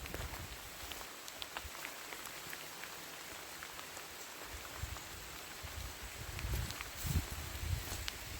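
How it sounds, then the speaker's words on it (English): Steady rain patters and hisses across the whole stretch at Leith Hall's walled garden, growing heavier into a downpour toward the end, with scattered drops striking nearby surfaces. "It's definitely coming down, more of a downpour than what it was."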